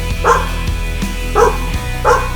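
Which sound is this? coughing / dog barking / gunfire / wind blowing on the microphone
dog barking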